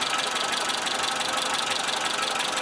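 A warmed-up Suzuki SJ410 engine idles steadily and close by, its valves never adjusted, with a light, rapid mechanical ticking running evenly over the engine hum throughout.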